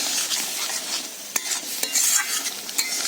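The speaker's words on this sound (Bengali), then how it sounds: "এবার আমি দিয়ে দিচ্ছি জল জল দিয়ে মশলাটাকে আমি আরও এক মিনিট মতো ফুটিয়ে নেবো" Water poured into a pan of spice paste that has been frying for potol curry sets off a steady sizzling hiss, broken by a few sharp spatula scrapes and stirs. It is close and fairly loud, with no voices.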